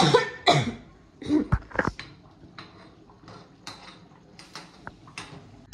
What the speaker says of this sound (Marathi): काय सगळं कंटिन्यू खोकलायला लागलाय, कंटिन्यू